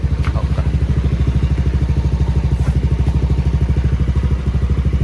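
A Yamaha scooter engine, from the Aerox, Lexi or NMAX range, running close by at a steady idle with a loud, even, rapid pulsing putter and no voices.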